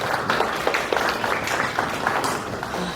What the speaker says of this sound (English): with a hand of applause